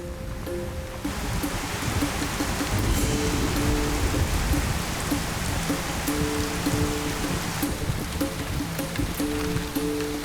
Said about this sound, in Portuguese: E chuvas pesadas caem torrencialmente.